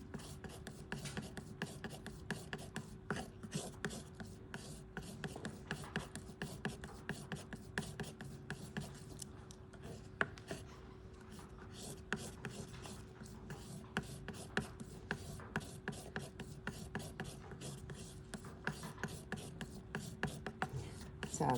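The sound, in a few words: mixing orange and phthalo blue paint on a palette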